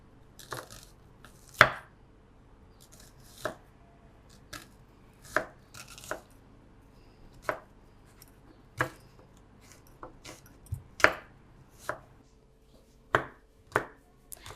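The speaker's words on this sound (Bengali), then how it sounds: "এখানে আমি 7টা বড় সাইজের পেঁয়াজ কেটে নেব।" A knife chops large local onions on a board in a home kitchen, sharp distinct thwacks spaced about a second apart, close and alone against near silence.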